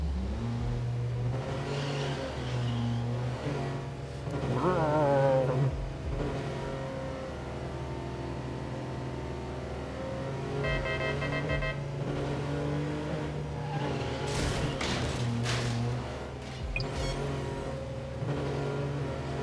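A car engine in the video game NTE: Neverness to Everness revs steadily while driving, rising and falling in pitch with a loud, continuous drone and brief surges. Nobody speaks.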